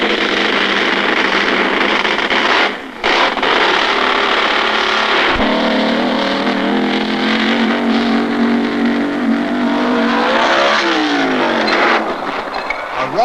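A 1960s drag racing car makes a run at Atco, its engine roaring loud and continuous, with a brief dropout partway through and a falling pitch near the end.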